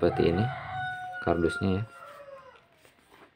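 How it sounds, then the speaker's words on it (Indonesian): A rooster crows in short repeated calls, loud and close, with a person speaking over and between the crows. "Wow, ada ayam berkokok-kokok teman-teman."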